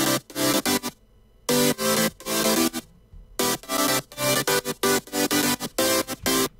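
Saw-wave synth chords for a future house track, built from three layered presets, play in short punchy stabs with gaps between, a bright buzzy rhythmic pattern alone and up front.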